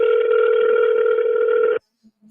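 A telephone call being dialed, heard as a loud steady electronic tone for almost two seconds that cuts off abruptly and leaves near silence with a couple of faint blips.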